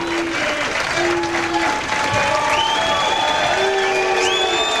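Crowd at a professional bowling tournament final, the 2000 PBA Don Carter Classic, applauding and cheering steadily, with continuous clapping and scattered whistles and whoops over a sustained roar.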